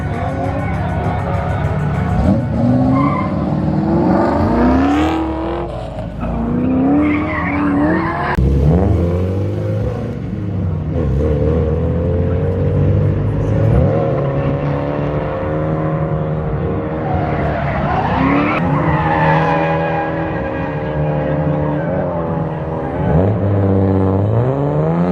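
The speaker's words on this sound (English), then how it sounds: "People still drifting a little bit." Cars drifting at a season-closing Lock City Drift event, with engines revving and rising and falling against tire screech, held steadily at a moderate distance, and a crowd murmuring in the background.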